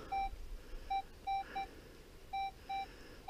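A metal detector in a forest beside a WW2 German machine-gun nest gives a string of short, even electronic beeps, irregularly spaced over faint background hiss, as it is swept around a rock.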